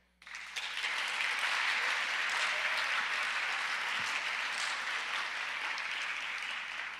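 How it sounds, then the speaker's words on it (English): Audience applause at a school convocation, a sustained, even wash of clapping that starts abruptly and holds steady at full strength for the whole stretch, with no voices over it. "There's an applause there."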